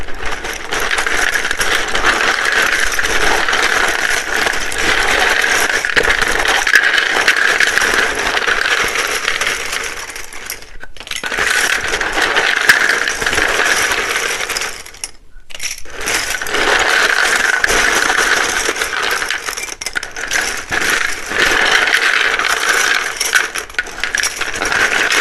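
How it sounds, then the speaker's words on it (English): Tarot cards are shuffled loudly and continuously up close, a dense rattling, riffling clatter that runs for the whole stretch, broken by two brief pauses. "It can be very loud when I shuffle these."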